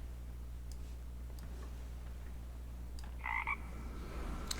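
A short frog croak from the Eternal digital card game sounds once near the end, a brief bright double burst over a quiet low hum with faint ticking clicks.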